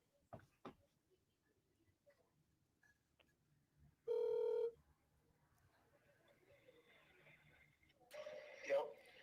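A telephone call rings out with a single short electronic ring tone partway through, surrounded by faint muffled handling noise and a quiet rustle afterward.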